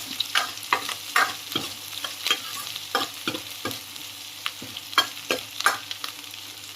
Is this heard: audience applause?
no